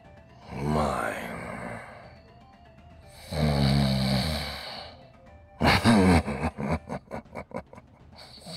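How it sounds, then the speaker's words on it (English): A character snoring in the Trials of Mana video game: two long, loud snores, each a drawn-out inhale rasp, followed by a burst of sharp rhythmic game sounds. "Snoring, huh?"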